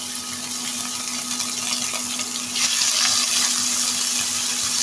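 Half a cup of chopped onions fry in a little oil for a vegetarian biryani, giving a steady loud sizzle that swells slightly partway through, with no talking.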